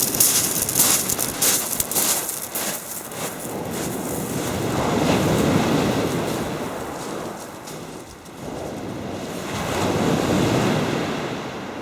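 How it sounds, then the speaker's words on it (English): Waves break and wash onto a shore where someone is bass fishing, a loud rolling surf that swells and recedes in long surges, mixed with gusty wind buffeting the microphone, and no talking. "the waves crash into the line"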